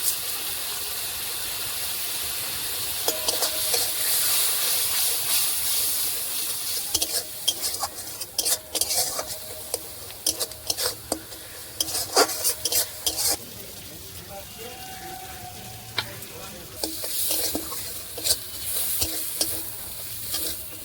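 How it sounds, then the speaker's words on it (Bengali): Spice paste with salt, turmeric and sugar fries in oil in a pan for a fish and fig dish, with a steady sizzle and repeated scraping stirs of a spatula, alone without talk. "মশলাটা খুব ভালো করে কষানো হয়ে গেছে, মশলা থেকে তেল ছেড়ে এসছে।"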